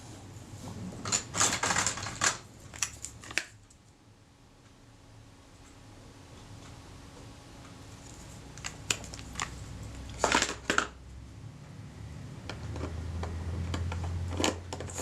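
A Kodak Retina II type 122 camera under repair has its shutter fired at different speeds, giving faint, sharp mechanical clicks in small clusters separated by quiet stretches.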